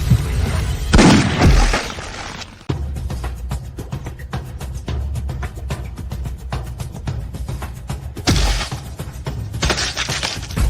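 Gunfire in an action film scene: bursts of rapid shots and heavy booms crack loudly through a dense, chaotic mix, with sharp repeated transients throughout and big explosive blasts near the start and end.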